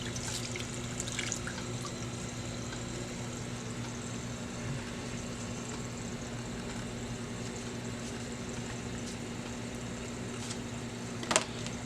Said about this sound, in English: I will rinse off the toothbrush.